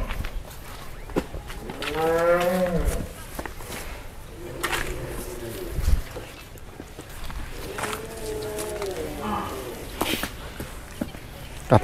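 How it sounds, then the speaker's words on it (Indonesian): Brahman cattle low in deep, drawn-out moos inside a pen, with two clear calls a few seconds apart. Faint shuffling and thumps sound between them. "Ada 6 ekor sapi Brahman."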